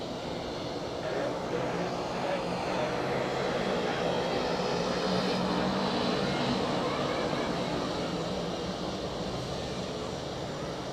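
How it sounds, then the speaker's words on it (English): An Air Baltic A220 jet takes off at Zurich Airport, a steady, broad engine roar holding at moderate, distant level for the whole stretch with a faint voice underneath. "Takeoff for the Air Baltic A220."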